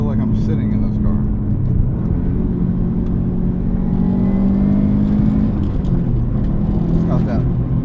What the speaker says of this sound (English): Now we're driving the JDM swapped STi.